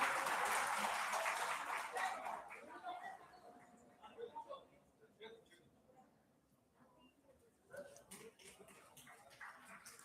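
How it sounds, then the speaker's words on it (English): Applause from a lecture audience at a memorial lecture in Calcutta welcomes a guest speaker. A dense burst of clapping opens the sound and quickly thins to scattered claps, with voices speaking in the room. "Please give a round of applause to our guest speaker."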